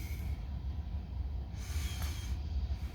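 A short train rolls past on the tracks, a steady low rumble with faint hissing at moderate distance and no talk.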